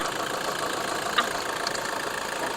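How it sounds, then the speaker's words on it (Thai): A Toyota Vigo TRD Sportivo pickup with a D4D engine and automatic gearbox idles smoothly, giving a steady, even hum throughout with no talk. "เครื่องยนต์นิ่งมากเลยนะตอนนี้น้องจะจัดสตาร์ทเครื่องยนต์ไว้อยู่"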